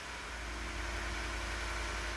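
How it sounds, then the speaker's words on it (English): A car engine idles after being jump-started with a NOCO AX65 jump starter, giving a faint, steady low rumble with a constant hum and no other sounds. "Once the engine is running"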